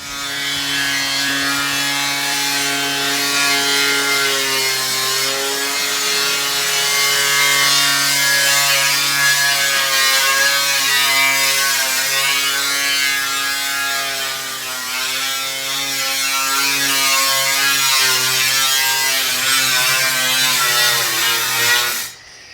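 A power saw cuts through thick sheet aluminum on a horse trailer roof to open a hole for an air conditioner, a loud, steady, high-pitched grinding whine that runs continuously for over twenty seconds before cutting off.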